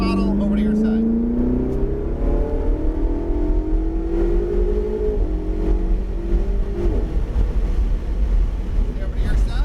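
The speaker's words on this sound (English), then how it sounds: "Roll on the throttle, over to your side." A Ferrari 488 GTB accelerating on the NCM track in Bowling Green, Kentucky, its engine note climbing steadily in pitch with heavy wind buffeting, close and loud.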